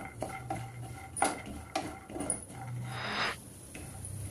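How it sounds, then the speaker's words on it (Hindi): Peanuts stir-fried in oil in a pan over low-medium heat for poha chivda, with repeated scraping and clinking of a spoon against the metal pan and a soft sizzle, close and steady with no talk. "इस तरीके से चलाते हुए मूंगफली दाने को भून लेते हैं।"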